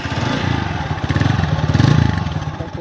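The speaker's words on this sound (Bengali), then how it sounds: "চলুন এখন বাইকটা স্টার্ট করি, আপনাদেরকে বাইকটা ইঞ্জিন কোয়ালিটি দেখাই" A TVS 4V 160 motorcycle with double hydraulic brakes runs close by, its engine idling with a rapid, uneven thumping pulse that swells slightly midway.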